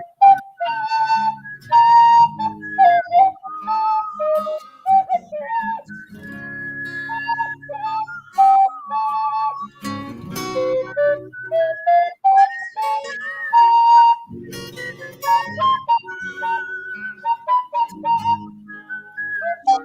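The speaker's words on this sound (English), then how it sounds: "You hear the whistle?" Whistled melody, a series of short and sustained tones stepping up and down in a tune, clear and close with brief pauses between phrases.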